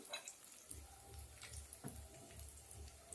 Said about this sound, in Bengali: এবার কিশমিশ আর কাজু একসঙ্গে ভেজে নেব হালকা লাল লাল করে।